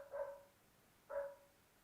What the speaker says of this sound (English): you give a caption, you say dog basically barking followed by a person speaking